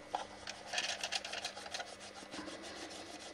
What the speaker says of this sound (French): C'est terminé, un bon coup de ponçage